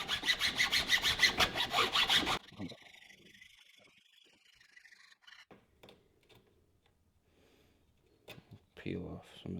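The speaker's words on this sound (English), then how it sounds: "I'm going to take a chainsaw file." A chainsaw file rasps rhythmically across an Osage orange bow, cutting string grooves in quick, even, close strokes for about two seconds, then gives way to quieter scrapes and light handling knocks.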